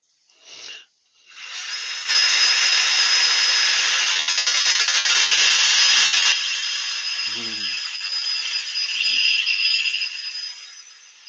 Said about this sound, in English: We're going to start with 180 on the drill for the inside.